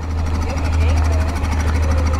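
A motorcycle with an open exhaust, fitted with top boxes and running without a filter or washer, rumbles loudly and steadily at a standstill outside a school, with a deep, continuous throb.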